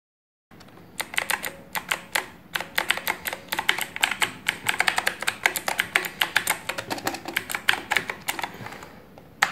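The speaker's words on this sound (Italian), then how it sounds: "adesso possiamo sentire eh, il suono dei tasti dal vivo" Rapid, uneven keystrokes from an aLLreLi T9 Plus mechanical gaming keyboard, clicking close and clear in a steady flurry of typing with no talk over it.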